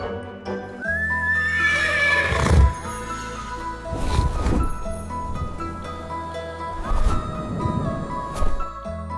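A cartoon horse in a fairy-tale story gives a loud, rising whinny near the start, then a steady clip-clop of hooves runs throughout, with another neigh-like swell later on. There is no talk.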